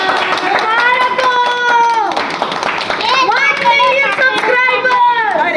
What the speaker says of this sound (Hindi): नहीं आप काटो हम सारी तालियां बजाएंगे।